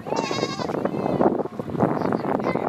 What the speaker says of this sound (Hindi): बकरी किधर जा रही है तुम्हारी?